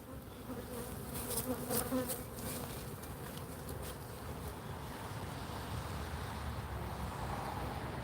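Honeybees drone in a steady, close swarm buzz around an open hive box during a hive check, with soft wind-like background noise and no talking.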